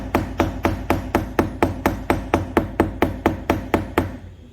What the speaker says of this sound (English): Little anvil, little hammer here. Okay, we're gonna smash that part flat